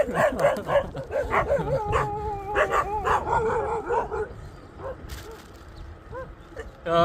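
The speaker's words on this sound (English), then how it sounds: "Finally, a bit of dogs that are awake early in the morning." Several dogs bark and yip loudly and repeatedly early in the morning in Thailand, with overlapping calls in the first few seconds, then sparser barks and a whimper, with someone talking over them.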